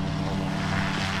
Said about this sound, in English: Oh, hey, that's my plane.